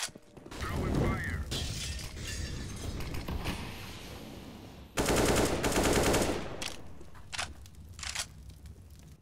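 Incendiary grenade in a competitive shooter game, thrown and bursting with a sharp shattering crash amid rattling gunfire and clattering mechanisms, loud and close, followed by a second intense burst and scattered shots.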